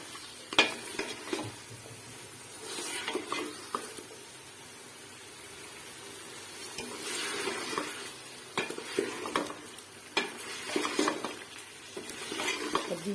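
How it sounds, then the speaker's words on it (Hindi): Mutton chops frying in about a spoonful of ghee in a pan, with a steady soft sizzle, occasional stirring scrapes and utensil clinks close by, no talking. "इसको भूनते हैं, यहाँ डालते हैं इसमें घी।"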